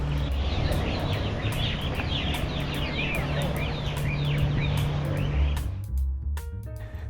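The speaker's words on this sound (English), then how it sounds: "The soothing sounds of Peng Chau's local bird chorus fills the air with life." Many birds chirp and twitter together in a busy outdoor chorus on Peng Chau Island, Hong Kong, over a steady low rumble of background noise, thinning out toward the end.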